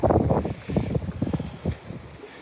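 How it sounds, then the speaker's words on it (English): Wind buffets a fishing boat in a wind-blown cove, roaring in uneven gusts across the microphone, loud and close with no talk. "the wind is blowing into this cove"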